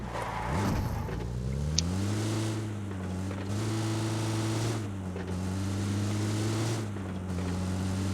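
A vehicle approaches in a mobile battle royale game, its steady engine drone holding a low humming pitch that rises and falls a few times, close and continuous throughout with no talk.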